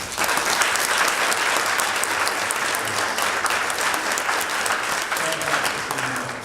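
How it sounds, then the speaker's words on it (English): Sustained applause from an audience honoring city staff at an art gallery announcement event, a dense steady wash of many hands clapping throughout, with a few voices faintly mixed in. "we really have to give a round of applause to city staff for everything they've been doing on this"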